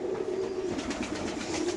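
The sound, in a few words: racing pigeons cooing in loft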